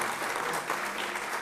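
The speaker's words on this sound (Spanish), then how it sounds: "pedirles un aplauso fuerte para ellos" An audience at a panel of speakers claps in dense, steady applause that fills the room for the whole moment.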